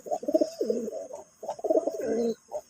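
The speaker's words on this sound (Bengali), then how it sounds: "এই যে আমার টেডি কবুতর, টেডির সঙ্গে বেনারস নর" Teddy and Benaras pigeons in a loft coo in two close, throaty bursts with a short pause between, loud and near with no talking.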